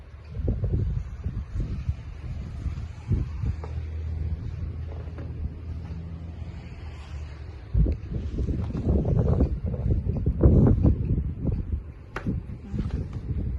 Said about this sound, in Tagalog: Naririnig mo guys yung hangin.